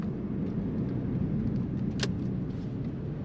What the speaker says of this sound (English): This car with a nice exhaust rumble